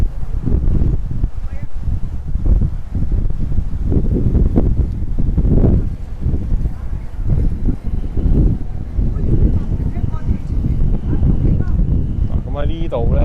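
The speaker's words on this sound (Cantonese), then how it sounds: "好大風啊！" Strong wind buffets the microphone on a street in Huaqiao New Village, Guangzhou, with loud low rumbling gusts throughout and a person speaking over it.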